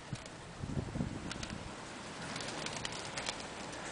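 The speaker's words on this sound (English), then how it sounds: "We got quite a few birds up flying." Racing pigeons flying over a loft on a hot, sunny day, heard as faint wing flutters and soft clapping bursts early on, then a steady low outdoor hum with scattered light ticks and pats.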